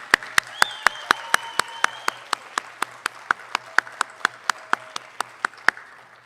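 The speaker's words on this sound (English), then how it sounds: "how about one more round of applause for these folks?" Steady, evenly spaced claps at a high school commencement ceremony, each one sharp and distinct in a regular rhythm, with faint voices and sustained tones underneath.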